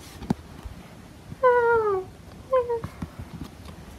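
A cartoon cat in a Wario video game meows twice, a long drawn-out mew followed by a shorter one, clear and close over faint background clicks.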